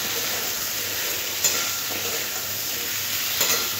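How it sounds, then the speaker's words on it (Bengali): A vegetarian potato curry with spices and coriander leaves is stirred in a pan, giving a steady close sizzle with faint scrapes of the spoon and no talking. "সব কিছু ভালো করে আলুর সাথে মিশিয়ে নেবো"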